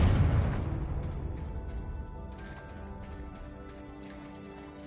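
A Confringo blasting spell fired in Hogwarts Legacy lands as one loud burst at the start, then a booming tail of rumble and ringing debris fades over several seconds, with no voices.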